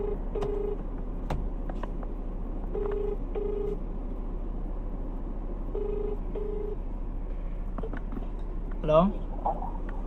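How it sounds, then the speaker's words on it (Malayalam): A phone call placed by an Uber driver in Ernakulam to a waiting passenger: the ringback tone repeats in paired bursts over steady car-interior hum, with a brief louder voice or sound near the end. "ഒന്ന് വിളിച്ചു നോക്കാം നമുക്ക്."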